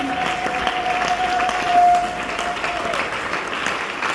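A church congregation applauds and cheers its God in a packed hall, loud sustained clapping and crowd noise that fills the whole span, with a single held tone rising briefly above it.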